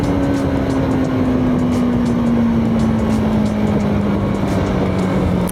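TVS Apache RTX 300 motorcycle engine droning steadily and loudly while riding, a sustained hum slowly falling in pitch over several seconds with wind roar, no voices.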